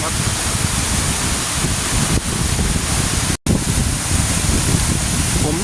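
At the base of Tat Mok waterfall in Thailand, falling water pounds loudly and without a break as a dense roaring rush close to the microphone. The roar cuts out very briefly once.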